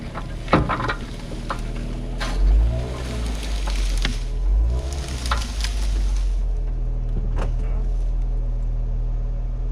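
A small Jeep backing up to hook onto a chain in a field, its engine a low steady hum with a couple of swelling revs and scattered clanks, no speech.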